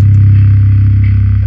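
An acoustic guitar pitched down through an Earthquake plugin into a very deep, slightly distorted bass tone, one loud sustained low note droning steadily with a faint rhythmic pulsing as it fades.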